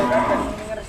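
A big Simmental Jumbo bull moos in a single loud, drawn-out low call close by, with some rough farmyard noise and a faint voice behind it.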